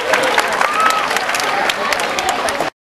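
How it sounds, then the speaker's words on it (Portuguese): Students and staff at a school's 15th anniversary celebration burst into steady, dense applause, loud and close for nearly three seconds before cutting off abruptly. "com direito a aplausos."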